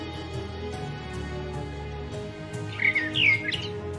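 Chirping bird calls from the video game Shadows Over Loathing, a few bright tweets near the end over steady game music, with no talk.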